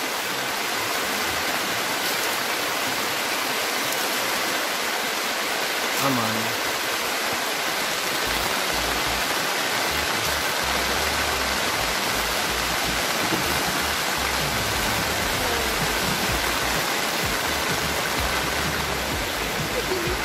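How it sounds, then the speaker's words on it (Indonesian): Rain pours steadily at a family campsite in Ciwidey, a constant dense hiss filling the whole stretch with a brief voice briefly heard underneath. "Asik, hujan."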